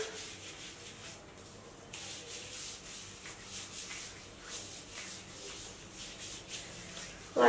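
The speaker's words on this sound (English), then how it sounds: "So you just place it on your skin, rub her in," Lotion rubbed into skin by hand makes a faint, steady swishing and rubbing sound, continuous with small rises and falls, close up and with no talking over it.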